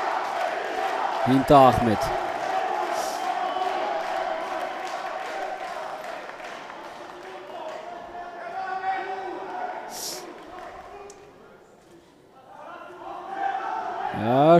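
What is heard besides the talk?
boxing match audience cheering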